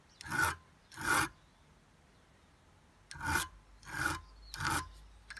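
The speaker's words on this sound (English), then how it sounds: "I'll take a fine jeweler's file and just work these little burrs off the edges and just clean up this lock ring nicely." Fine jeweler's file rasping burrs off the edges of a bicycle lock ring on a Colnago Super, five short scraping strokes in two groups with quiet pauses between, close and clear.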